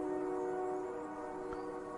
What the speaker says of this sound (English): I hear a distant train whistle.